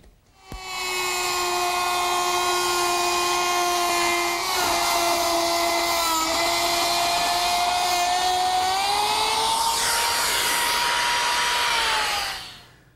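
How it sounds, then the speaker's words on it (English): A laminate trimmer fitted with a ball-bearing trimming bit cuts away excess laminate on a TV tray table. A close, loud, steady high-pitched whine holds for about eleven seconds, rises in pitch near the end, then spins down, with no talking. "I've installed a laminate trimming bit, which has a ball bearing which will ride against the substrate, and the cutter will remove the excess laminate"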